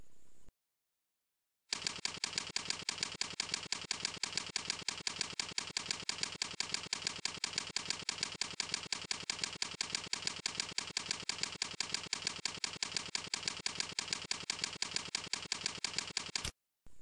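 Steady, rapid keystrokes of code being typed on a keyboard, an unbroken run of even clicks lasting many seconds after a brief silent gap, close and dry.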